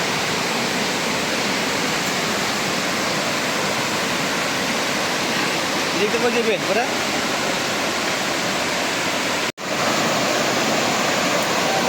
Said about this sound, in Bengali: এই হলো ঝর্ণাটা এটা প্রথম ঝর্ণা